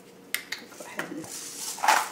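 Salt is stirred into a thick fire-roasted tomato and spinach sauce in a pan, with a few spoon clinks against the pan followed by soft scraping and mixing sounds, close and fairly quiet.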